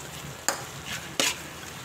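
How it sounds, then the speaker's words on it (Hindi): Bitter gourd curry fried and stirred in a pan, Memon style: a steady low sizzle with two sharp scraping bursts as the spoon sweeps through the pan. "देखें इसकी अच्छी सी भुनाई करती जाऊंगी मैं, फ्राई करेंगे इसकी तरी साइड में निकल आए"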